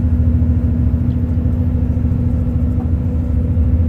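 Steady, loud low rumble of vehicles on the highway out of Madina toward Riyadh, heard from inside a moving vehicle, continuous engine and road noise with no pauses.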